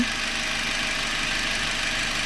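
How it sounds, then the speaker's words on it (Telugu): A Chevrolet Beat LS with a 1200cc engine idles close by, giving a steady, even hum with a light rapid ticking throughout. "ఇంజన్ బీడింగ్ వింటున్నారు కదా, చాలా సైలెంట్ ఉంది ఇంజన్ బీడింగ్ అనేది."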